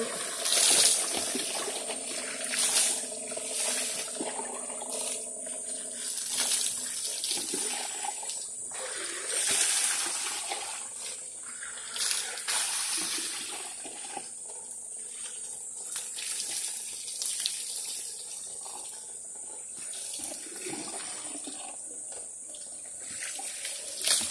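Water gushes and splashes steadily from an outdoor water spout into a bucket for bathing, running continuously close by with no one speaking.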